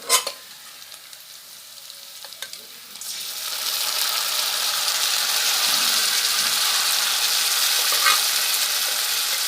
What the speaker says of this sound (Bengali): এবার এতে আমি মাংসটা দেবো।